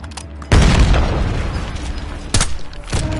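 A grenade detonating in the Warzone battle royale game, one loud close boom followed by a rumbling tail, then a second sharp blast shortly after.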